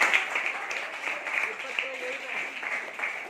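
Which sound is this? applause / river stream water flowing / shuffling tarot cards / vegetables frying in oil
applause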